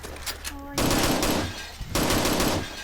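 Bursts of M14 rifle fire in the video game PointBlank come in two loud sustained volleys separated by a short pause, preceded by quieter game interface sounds.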